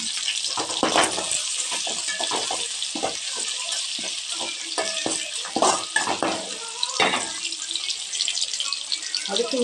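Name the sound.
green chilies sautéing in pan for egg fried rice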